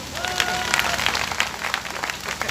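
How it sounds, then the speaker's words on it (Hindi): Women in an audience at a talk clap together in a brief burst of scattered applause, fairly faint, with a voice speaking over it. "भाई अब महिलाएं इनके लिए तालियां बजाएं।"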